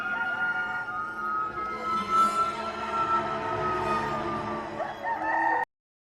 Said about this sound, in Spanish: y al instante cantó un gallo